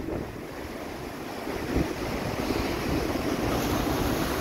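Ocean waves surge and wash continuously onto the shore at Peniche, Portugal, a broad steady roar of surf mixed with wind noise, with no voices.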